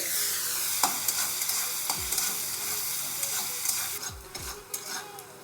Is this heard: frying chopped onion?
yes